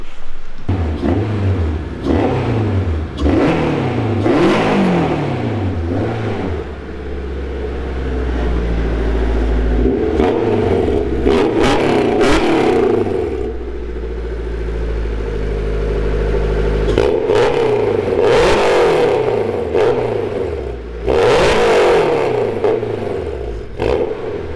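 A Hakotora kei truck fitted with a Honda K24 engine starts, then revs repeatedly in rising and falling sweeps, up close and loud, with a steadier idle stretch in the middle.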